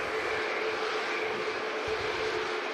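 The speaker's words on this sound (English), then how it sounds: "That's an Airbus A320neo in the classic scheme, heading off to Stockholm." Steady broadband roar of an Airbus A320neo jet taxiing at Manchester Airport, heard from a distance as a constant engine whine and rumble with no voices over it.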